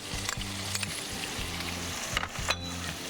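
Green peas fry with freshly ground masala in a pan, a close, bright sizzle broken by rhythmic scraping strokes of a spoon stirring through the mix.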